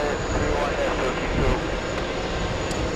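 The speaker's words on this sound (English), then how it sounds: "Turkish 2 Heavy 1220 at 10 runway 31 clear for takeoff." A Turkish Airlines heavy jet takes off at JFK with a loud, continuous broadband engine roar, steady and close, filling the whole moment.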